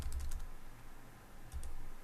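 Computer keyboard typing in two short bursts at the start and near the end, soft clicks close by over a low hum, with a quiet pause between.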